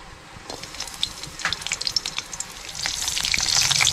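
Green chilies fry in hot ghee in a kadhai, with a close, crackling sizzle and small popping bursts that grow louder and denser toward the end, with no one talking.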